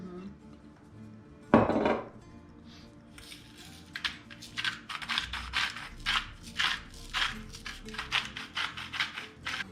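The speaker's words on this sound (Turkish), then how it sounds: "Arkadaşlar bunu karıştırıyoruz" Taco filling is stirred in a pot. One loud metallic clank is followed by a quick run of spoon scrapes and clinks against the pot, close and fairly loud, with faint talk in the background.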